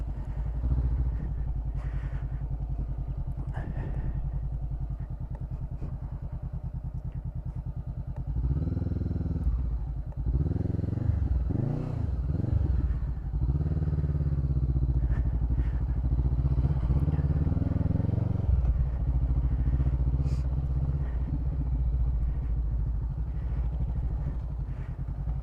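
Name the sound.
heavy motorcycle riding on dirt trail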